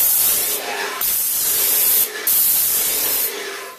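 A Graco sprayer blasting water-based paint at raised pressure gives a loud, steady airy hiss, broken into about four bursts by brief pauses, close and alone with no talk.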